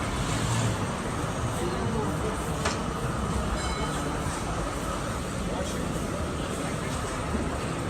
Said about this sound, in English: Oh, look at these trains banking up like crazy.